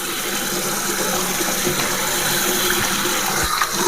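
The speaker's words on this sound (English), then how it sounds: "let's do a quick little rinse" Water runs steadily from a tap as a plastic razor is rinsed under it, a continuous close splashing hiss with no talking, the flow holding even throughout.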